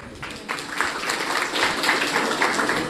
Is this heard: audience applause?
yes